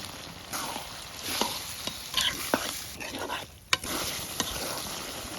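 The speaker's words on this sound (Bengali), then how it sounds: "এখন খাসির কলিজাটা দিয়ে দিব।" Goat liver frying with spices in a pan, a steady sizzle under repeated stirring scrapes and occasional sharp utensil knocks, close and moderately loud.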